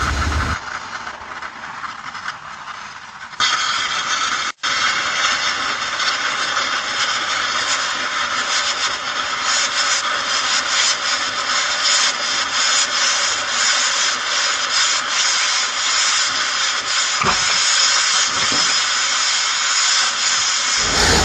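Hot coolant of distilled water and water wetter sprays from a detached steam port hose on a car engine's cylinder heads, a loud, continuous hiss that swells after a few seconds and holds steady, close by, with no voices.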